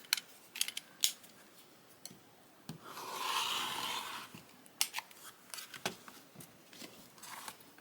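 Rotary cutter or scissors trimming quilted embroidered fabric along a ruler, heard as a sustained cutting swish of about a second and a half amid scattered light clicks and handling taps, close and fairly quiet.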